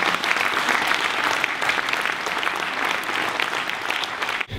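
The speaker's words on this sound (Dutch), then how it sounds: "geef ze een daverend applaus." Enthusiastic audience applause for two film award winners at a ceremony, dense steady clapping that holds at full strength for several seconds before cutting off abruptly.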